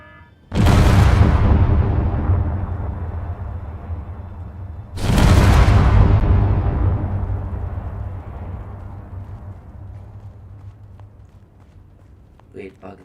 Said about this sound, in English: I got a double explosion.